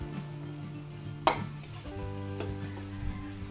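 Onions sizzle and fry in a hot pan for a Filipino party dish, a steady close crackle with one sharp clank of a utensil and some stirring, and no voices.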